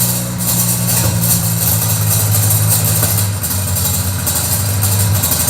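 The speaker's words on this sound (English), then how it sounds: "it unfortunately like bent the bolt that is holding my silencer in, so it makes this really terrible noise" A third-generation Honda Prelude with a bent silencer bolt, its exhaust running loud and close: a steady engine idle with a deep low drone and a harsh, buzzy broadband rasp throughout, with no talking.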